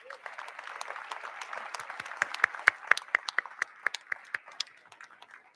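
A crowd at a law school hooding ceremony gives friends and family a round of applause, starting soft and swelling into sharper, distinct claps that thin out toward the end.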